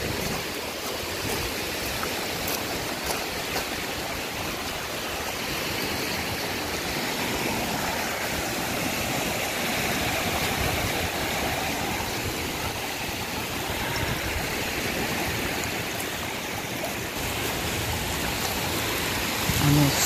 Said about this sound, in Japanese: あ、なんか川になってて流れてきてますね。